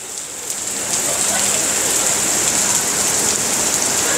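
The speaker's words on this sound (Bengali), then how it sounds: "হঠাৎ করে বৃষ্টি চলে এলো।" A sudden downpour in Singapore's Chinatown, heard from a 1980s overbridge, swells over the first second into a dense, even roar of rain hitting hard surfaces, loud and constant throughout.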